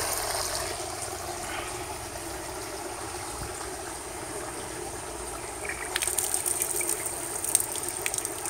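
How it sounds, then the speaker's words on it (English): Water runs steadily from a tap into a PVC water table in a soft, constant gush, with a few faint splashes and clinks toward the end. "Can we turn the faucet back on?"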